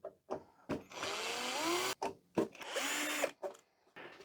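A power screwdriver backs screws out of a VCR cover in two sustained whirring bursts, each about a second long, close and clear, with short clicks and handling noises between and around them.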